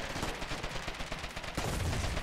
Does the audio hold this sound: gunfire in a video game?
yes